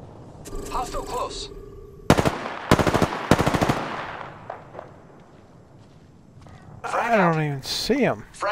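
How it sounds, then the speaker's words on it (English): Gunfire in the Apex Legends battle royale game: three loud, sharp bursts of rapid automatic shots, followed by quieter distant shooting and game sounds, with voices speaking before and after. "They're shooting at me."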